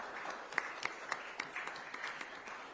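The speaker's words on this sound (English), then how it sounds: "A loud round of applause, please, for Sarita Subramaniam." Audience applause at the Amazing Indians Awards 2024 ceremony, a soft, distant round of scattered clapping with a few distinct claps standing out over a steady wash of hands.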